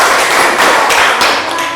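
Loud, close classroom applause fills the space, a dense continuous rattle of many students clapping together that holds steady and eases off slightly near the end.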